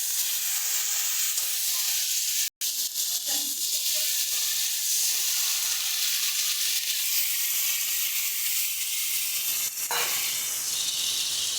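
Water poured into fried spice paste in hot oil for a pointed gourd curry, a loud continuous hissing sizzle that holds steady, close and alone without talk.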